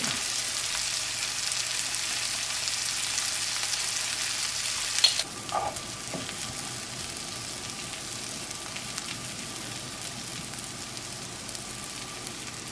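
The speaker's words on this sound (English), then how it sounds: "And go the onion. We're going to caramelize these nicely." Onions sizzle and fry steadily in a pan, caramelizing for a Palermo sfincione tomato sauce, with a brief clatter of stirring partway through and no talk.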